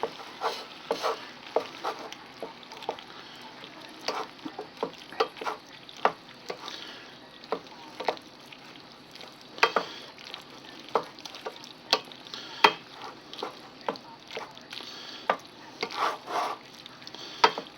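Mac and cheese being stirred in a hot pan, with a steady sizzle under repeated scraping and clinking strokes of a utensil against the pan, close and moderately loud, with no voices.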